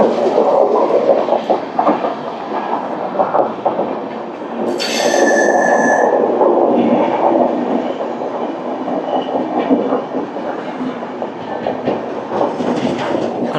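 A Rayagada–Guntur Express train runs at speed after leaving Anakapalli, heard from on board as a steady loud rumble of wheels and carriage, with a brief high metallic squeal partway through.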